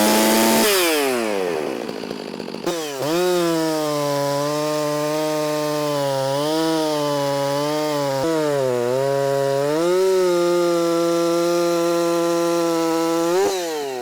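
A muffled chainsaw, a Stihl MS 460 or Husqvarna 562XP, bites into wood after a brief high rev, holding a steady, heavy loaded drone with slight dips in pitch as it works through the cut.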